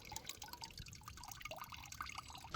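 Maple sap drips from chunks of ice into a bucket, a rapid scatter of small close drops and trickles at a faint level.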